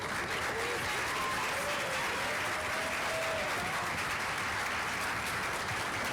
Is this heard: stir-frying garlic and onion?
no